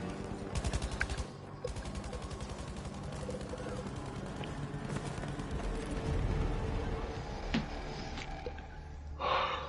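Battlefield V multiplayer gunfire rattles in sustained automatic bursts through much of the span, mid-distance and fairly loud, with mechanical clanks and a sharp noise at the end.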